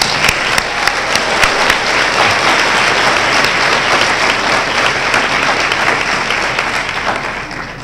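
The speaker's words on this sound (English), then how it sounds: "Please give them a round of applause." An audience at a university health sciences pinning ceremony applauds the occupational therapy assistant graduates. Dense, loud clapping fills the hall without a break and fades slightly toward the end.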